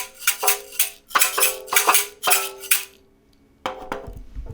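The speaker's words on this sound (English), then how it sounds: "So now you're ready to go and create some sounds with your shakers." Homemade tin shakers rattled in quick bursts, a bright metallic jangle with a rhythmic pulse, pausing briefly before a couple of final shakes.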